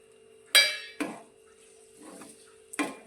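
A utensil scrapes and clinks against a pan while green garlic and spring onion are stirred together, giving a few sharp, close metallic strikes with quiet gaps between them.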